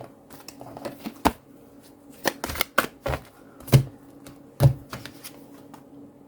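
Tarot cards being shuffled by hand in a series of crisp riffling and slapping bursts, some sharp and loud, separated by softer rustles and brief pauses, close up with no talk.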